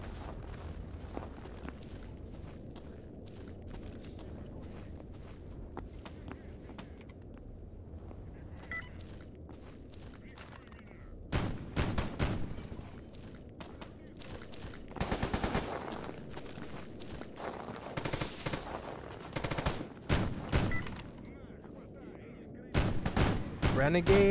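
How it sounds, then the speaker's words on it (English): Bursts of video game gunfire erupt in clusters, loud and sharp, over a steady low background, with scattered footsteps between volleys, during an Ironman run with the Monolith faction. "More gunshots over here."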